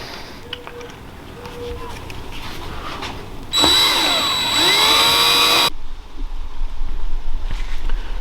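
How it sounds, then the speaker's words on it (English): A power drill whirs loudly for about two seconds, its pitch dipping as the bit bites into plastic pre-drilled divots on a stomp switch, then cuts off; quieter scraping sounds surround it. "I'm gonna just drill a little bit further into each one of these"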